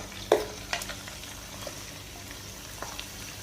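Mutton frying in a pan with paste gives off a soft, steady sizzle, with a sharp clink near the start and faint stirring scrapes.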